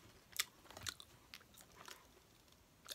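Someone is eating a donut: faint, close crunchy bites and chewing come in a few short, scattered bursts over near silence.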